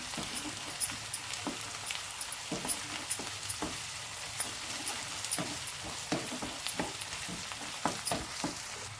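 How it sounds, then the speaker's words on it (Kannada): Ginger garlic paste frying in a pan for an egg and green peas curry, with a soft continuous sizzle under frequent quick scraping and tapping stirring strokes, close and moderately loud, no talk. "ಈಗ ಮಿಕ್ಸ್ ಮಾಡ್ಕೊಳ್ಳೋಣ ಸ್ವಲ್ಪ ಹಸಿ ವಾಸನೆ ಹೋಗೋವರೆಗೂ ಫ್ರೈ ಮಾಡ್ಕೊಳ್ಳೋಣ"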